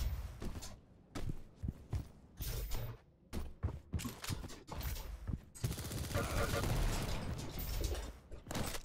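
Gunfire in the arena shooter Quake Champions: rapid bursts of shots and weapon clatter in quick succession, dense and loud, with a long sustained barrage near the end.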